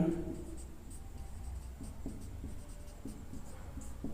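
Someone writes on a board during a physics lesson, making soft, scratchy, repeated strokes close by over a steady low room hum.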